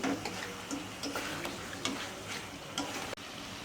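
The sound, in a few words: sautéing (koshano) food while stirring in a pan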